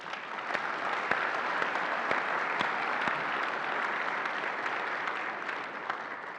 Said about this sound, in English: it's appropriate for all of us to give the commission a round of applause